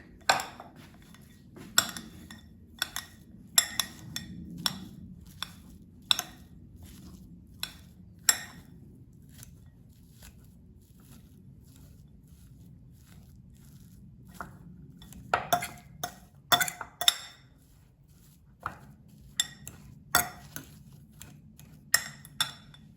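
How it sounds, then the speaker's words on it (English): A fork mashes baked potatoes in a dish, giving scattered metallic clinks and taps, some in quick clusters, over a soft low background hum, with longer pauses between bursts. "So now I will mash these potatoes with a fork."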